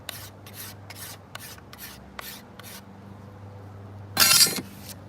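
A series of close rasping scrapes along a maple selfbow being tillered, about seven strokes in a steady rhythm, then a pause and a brighter, louder scraping burst near the end.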